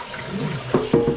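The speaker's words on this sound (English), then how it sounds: "I'm just gonna run it under cold water" Cold tap water runs over cooked pasta for an Italian pasta salad, a steady splashing rush with two sharper gushes near the end, close and alone.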